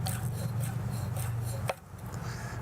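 A knife cutting corned beef into tiny pieces on a board, a rapid run of soft chopping strokes over a low hum, ending in one sharper knock before quieter scraping.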